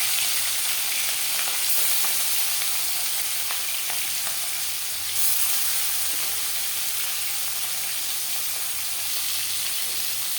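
Marinated pangas fish head and pieces fry in hot refined oil, giving a loud, continuous close-up sizzle and hiss that holds steady throughout with no talking.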